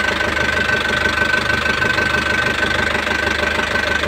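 An engine started for the first time after sitting unused for four years runs steadily nearby, loud and even, with a rhythmic knocking chatter running through its idle and no voices.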